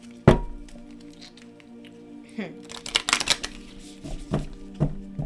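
Riffling and snapping of a heart-shaped card deck being shuffled, with a sharp thump at the start and bursts of crisp flutter later, under faint background noise.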